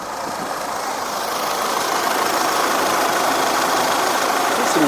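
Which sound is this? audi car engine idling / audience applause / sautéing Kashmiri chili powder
audi car engine idling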